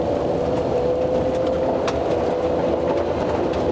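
Inside a Terracab 4x4 Sprinter camper van on the move, a loud, steady rumble of engine and road noise fills the cabin, with a faint whine running underneath.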